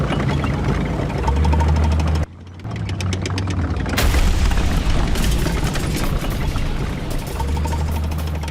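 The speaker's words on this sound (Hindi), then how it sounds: "हिजबुल्लाह ने एक वीडियो जारी किया है जिसके जरिए उसका दावा है कि गाइडेड मिसाइल से उसने मार्कवा टैंक को उड़ा दिया।" A guided missile strikes a Merkava tank in a combat zone: a heavy, rumbling blast with rough broadband roar, brief cutout, then sustained crackling noise and booming, loud and somewhat distant-sounding.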